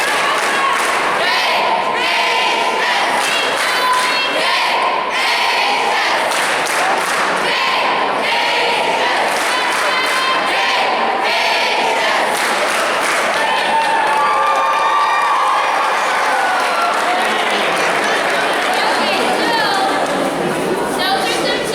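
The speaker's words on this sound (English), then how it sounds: "those are some cheers that we do at Kimball all the time" A large crowd of students at Kimball shouts school cheers in unison, chanting in repeated rhythmic bursts with loud, steady energy throughout.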